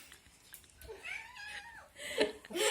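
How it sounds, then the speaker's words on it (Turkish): A pet cat gives a single drawn-out meow close by, rising and then falling, followed by faint rustling and a breathy voice-like sound at the end. "kedim Tekin"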